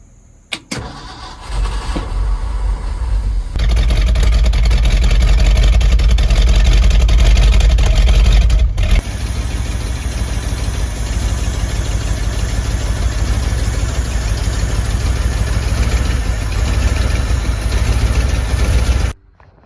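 A 1965 Ford F350 with an FE 352 V8 and new mufflers cranks and catches, then settles into a loud, deep, rumbling idle close by that runs steadily for over fifteen seconds.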